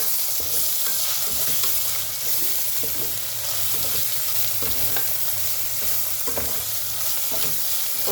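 Ginger garlic paste and turmeric fry in hot oil for a cabbage fry, a steady close sizzle with scraping stir strokes throughout, no talking.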